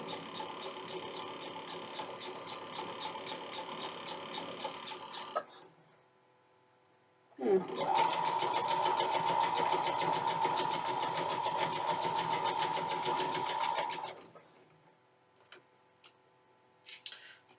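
A sewing machine that has been making a weird noise runs in two long bursts with a rapid, steady mechanical rattle, pausing briefly in between, close and fairly loud.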